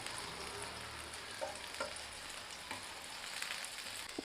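Food frying in plenty of oil in a pan, a continuous soft sizzle and hiss with a few faint stirring taps, quiet and steady throughout with no voices.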